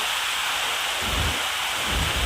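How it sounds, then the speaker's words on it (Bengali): Heavy rain pours in a dense, unbroken hiss during an evening storm, with low rumbles of thunder swelling twice beneath the downpour. "যেমন ঝড় উঠেছে আর বৃষ্টিও হচ্ছে খুব"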